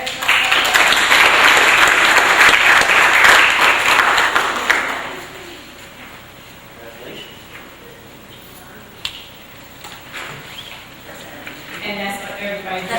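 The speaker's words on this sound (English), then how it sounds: "Let's have a nice round of applause" Loud applause from a school board meeting audience fills the first five seconds, then fades into quiet room noise with a brief knock and a faint murmur near the end.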